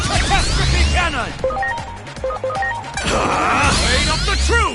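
Loud, chaotic combat from Digimon Story Time Stranger: crashing impacts and booming blasts of a cannon attack layered with whooshing effects and rising synth tones, continuous throughout.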